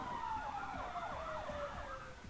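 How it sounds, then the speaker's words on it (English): An emergency siren escorting a funeral procession in Northwest Miami-Dade wails in a falling tone, somewhat distant and faint, over low road traffic noise. "told us the sirens are for the safety of the procession"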